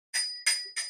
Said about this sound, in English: bike bell ring for you.